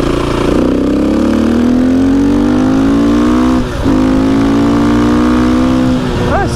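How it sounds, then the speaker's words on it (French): A KTM EXC 450 supermoto motorcycle accelerating hard, with a loud close engine note rising steadily through the revs, a quick dip at a gear change, then pulling on again as another climb begins. "ça accélère fort quand même hein"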